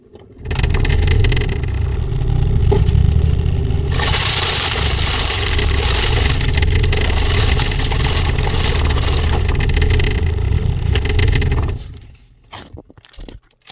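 A multipurpose 8-in-1 agricultural machine with two motors processes paddy in a loud, steady mechanical roar that brightens with a grinding rush midway before winding down.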